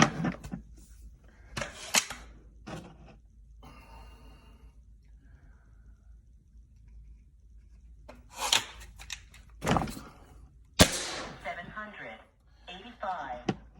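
A Diana RWS Model 34 .177 spring air rifle fitted with a Vortek Steel PG3HO kit fires a few sharp, close cracks, spaced out among quieter handling noise and talking.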